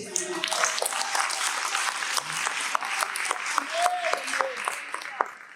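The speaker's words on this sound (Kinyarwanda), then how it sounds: "Kora amashyi." Audience applause at a gathering, a steady wash of many hands clapping that carries on through the whole stretch with a few sharper individual claps, while voices and other sounds come through underneath.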